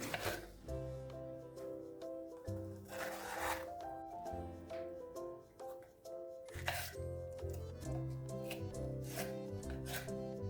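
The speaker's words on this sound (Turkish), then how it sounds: "Şimdi biberimi doğrayacağım." A knife chops through a bell pepper on a board in quick, uneven bursts of crisp cuts, faint and close, with light music playing underneath.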